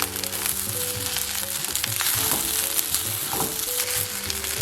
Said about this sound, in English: I'm going to continue stirring for about another minute or two until all the rice grains have been coated